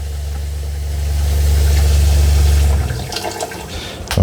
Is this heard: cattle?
no